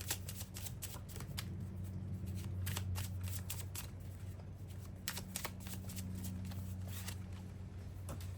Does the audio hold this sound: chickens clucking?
no